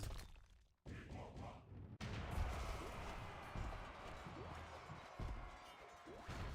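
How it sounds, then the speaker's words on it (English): Heavy explosion blasts in Battle Legion, with a sudden loud boom followed by a rumbling, crackling wash of battle noise and repeated thuds continuing to the end. "Exploding."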